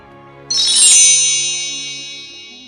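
A single bright ding rings out, then lingers and slowly fades, a small high-pitched bell chime over a faint soft background tone.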